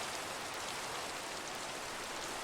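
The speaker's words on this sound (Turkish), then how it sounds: "Ne yağmur be? Gerçekte bu kadar yağmur olmuyor." Steady, dense rainfall in the Minecraft survival game, a continuous hiss of heavy rain pouring without pause, loud and close with no voices.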